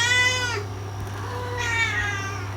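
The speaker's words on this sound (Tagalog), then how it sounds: "Ayan, yun na yung mga pusa." Two drawn-out cat meows, close and fairly loud, each a rising-then-falling wail separated by a short pause over a steady low hum.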